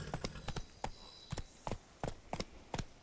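Roach the horse from The Witcher III gallops in steady clip-clop hoofbeats, a few sharp thuds spaced through a short stretch, moderately near and alone.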